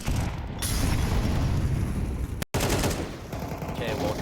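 Gunfire and flashbang bursts from a Counter-Strike esports match, ESL Pro League, form a loud, continuous barrage of rapid shots with a short dropout midway, while a caster talks over the action.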